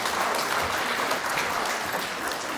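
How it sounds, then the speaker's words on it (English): A room full of people at a senior center volunteer luncheon claps steadily for several seconds, a dense, even wash of applause with no talking over it. "So let's give him a round of applause."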